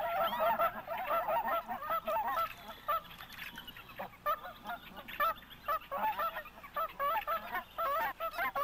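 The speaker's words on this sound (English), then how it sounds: "a lone Canada goose is always welcome" Canada goose honking in a prairie marsh, a lone bird giving repeated nasal honks in bursts, fairly close and clear, with short pauses between calls over quiet background.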